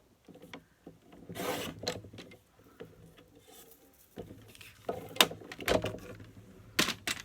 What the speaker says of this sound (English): I'm going to cut this one down just a hair.